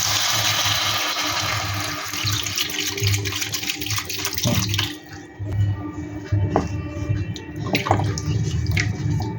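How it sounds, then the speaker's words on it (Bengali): Water is poured into a pan of frying spice masala while making aloo dum, giving a close splashing, sizzling and bubbling that briefly dips midway and then carries on with scattered drips and clinks. "জলটা দিয়ে দিলাম, ভালো করে এবার নেড়ে চেড়ে নেব।"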